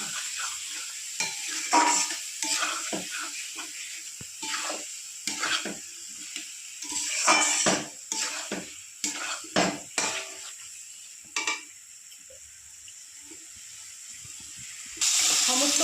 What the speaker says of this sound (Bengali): সমস্ত মশলা দিয়ে ভালো করে আমি কষিয়ে নিই